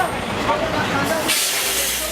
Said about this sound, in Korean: 기차 오거든요